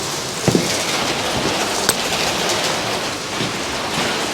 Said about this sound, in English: The hail stopped, or at least it slowed down.